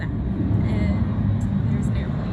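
An airplane passes overhead as a steady, loud low rumble that fills the whole stretch, with no words spoken.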